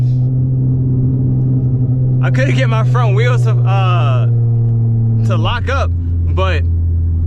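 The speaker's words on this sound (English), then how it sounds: "those advanced burbles will never fail. Like they're just so loud." A catless, flame-tuned V6 Dodge Charger rumbles with a steady deep exhaust drone that drops in pitch partway, close and loud, under someone talking.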